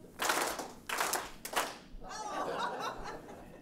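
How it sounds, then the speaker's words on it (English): An audience at a trauma healing workshop claps in short bursts on cue, three quick rounds of hand claps followed by scattered chuckling and laughter. "Whenever my hands pass, I want you to clap."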